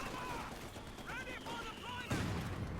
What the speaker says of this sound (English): Yeah, that's a German mortar.